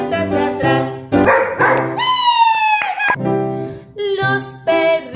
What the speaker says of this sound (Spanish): Los perritos felices.